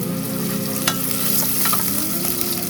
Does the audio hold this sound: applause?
no